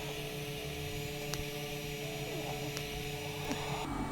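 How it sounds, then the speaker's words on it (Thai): A cooling fan runs inside a CCTV equipment cabinet with a steady, even whir and hum, moderately loud and close, with a couple of faint clicks. "ตอนนี้พัดลมทำงานนะครับ"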